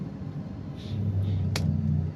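Low engine rumble of slow, congested road traffic in Biñan, with idling and creeping car motors close by and a brief sharp hiss partway through; no voices.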